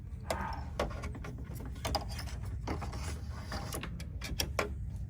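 A Baby Lock Solaris embroidery machine stitches a heart design. It makes a quiet, steady mechanical whirr with rapid, rhythmic needle clicks and ticks throughout.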